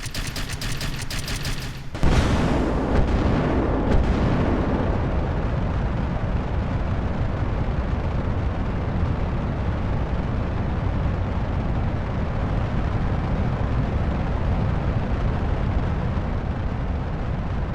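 A rocket lifts off in Kerbal Space Program: after a brief crackling lead-in, engines ignite with a sudden loud blast, then settle into a sustained, dense roaring rumble that stays heavy and steady for the rest of the ascent.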